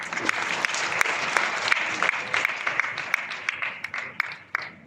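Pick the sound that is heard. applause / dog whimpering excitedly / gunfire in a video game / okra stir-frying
applause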